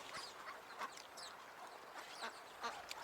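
Faint, scattered quacks and honks from several waterfowl, calling irregularly at a distance over a soft background hiss.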